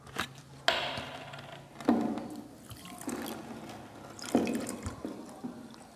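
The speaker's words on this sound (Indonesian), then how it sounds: "Selanjutnya kita beri air aquades sebanyak 300 ml." Distilled water, 300 ml, is poured in several short bursts, each a splashy gush that fades before the next pour, close and fairly quiet.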